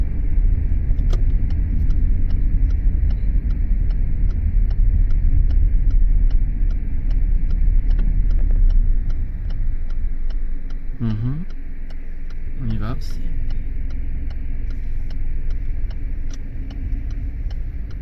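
Car driving along a road in Reims during a driving lesson, its steady engine rumble and road noise continuous throughout, with an instructor and learner talking over it.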